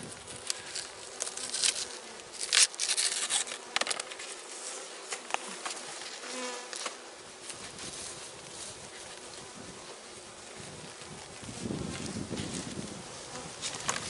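Honeybees buzzing around an open hive during re-queening, a close, uneven drone of wings with individual bees passing near and loud, outdoors with no talk.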